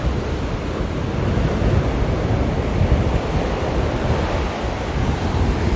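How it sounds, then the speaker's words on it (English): Ocean surf rolls in steadily at Waimanalo Beach, Hawaii, a continuous wash of breaking waves with a soft wind rumble, loud and close, with no voices. "this is Waimanalo Beach"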